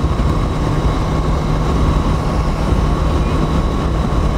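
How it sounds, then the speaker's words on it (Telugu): A goods train passing on the railway track below a flyover, a loud continuous low rumble and roar with a steady hum, heard from above the line. "ఏదో కింద ఏదో గూడ్స్ ట్రైన్ పోతుంది."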